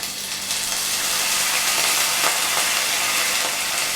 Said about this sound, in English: So first we have to put like one tablespoon of vinegar in it.